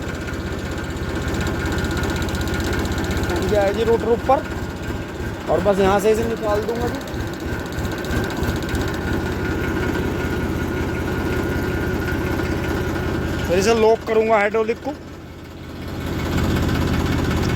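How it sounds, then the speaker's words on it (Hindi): A tractor carrying a rotavator idles steadily, its loud, close engine drone running throughout while someone talks over it. "ट्रैक्टर स्टार्ट हो गया है जी।"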